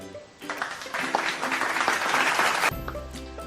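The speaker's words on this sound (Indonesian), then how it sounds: "kita berikan tepuk tangan kepada teman-teman kalian yang telah menjawab pertanyaan-pertanyaan tadi" Students in a microteaching classroom clap for classmates who answered questions, a dense patter of many hands that starts a moment in, swells, then cuts off abruptly near the end.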